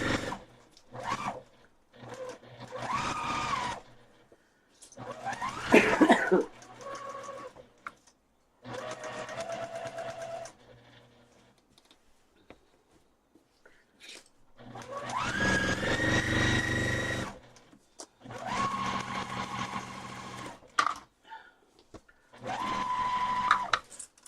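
A home sewing machine stitches a row of a quilt in several bursts of close, steady mechanical whirring, separated by short pauses as the fabric is repositioned.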